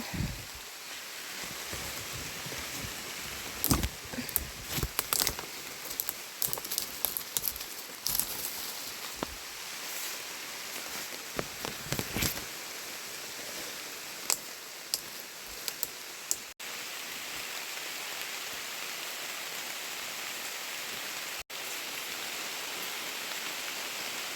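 Heavy rain falls steadily on a cassava field, a dense continuous hiss with scattered louder drops and patters, close and enveloping with no talk.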